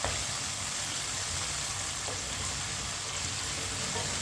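Pieces of taro root (arvi) frying in oil in a pan, giving a steady even sizzle throughout, moderately quiet and close, with no voices.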